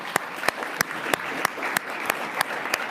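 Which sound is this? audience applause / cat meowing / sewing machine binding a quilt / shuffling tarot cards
audience applause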